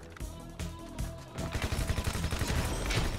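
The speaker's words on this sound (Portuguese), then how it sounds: "o Igor correu no meu tiro" Gunfire in first-person GTA V Online with mods: a few loud single shots, then a dense rapid burst of automatic fire that runs continuously to the end.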